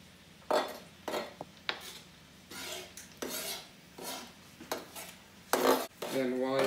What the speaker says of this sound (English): Now we're gonna add our artichoke hearts.